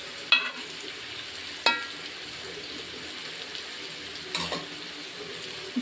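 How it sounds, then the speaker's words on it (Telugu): A pan of tamarind fish curry sizzles steadily while it is held with a cloth and swirled, with a few sharp metallic knocks and scrapes from the pan rising above the simmer. "మీరు ఏంటంటే చింతపండు పులుసు వేసి చక్కగా క్లాత్తో పట్టుకొని తిప్పితే అంతా సరిపోతుంది"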